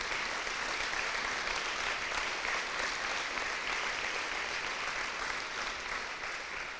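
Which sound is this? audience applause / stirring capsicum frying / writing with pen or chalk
audience applause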